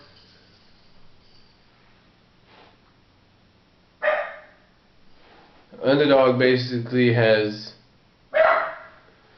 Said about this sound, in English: That's my dog over there.